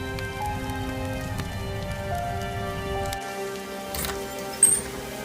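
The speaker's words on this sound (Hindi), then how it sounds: "इतनी तेज बारिश में इतनी रात को कौन दरवाजा बजा रहा है?" Heavy rain pours down on a cold night, a steady dense patter and hiss that holds throughout, with faint tonal sounds sitting beneath it.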